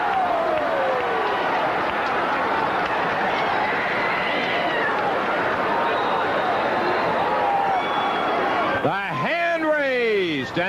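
A wrestling crowd at a 1982 CWA Southern Heavyweight title bout roars and applauds steadily as Jerry Lawler regains the belt over Nick Bockwinkel, with dense cheering throughout and a commentator's voice running under the noise.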